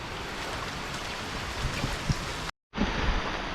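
Heavy monsoon rain pours down steadily over a village in the Konkan countryside, a dense continuous hiss that cuts out briefly before resuming just as strong.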